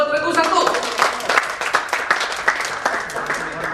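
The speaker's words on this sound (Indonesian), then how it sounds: "Kita kasih aplaus buat regu 1." Indoor audience applauding a team at a public speaking training session, steady clapping from a small group throughout, with a voice speaking over it.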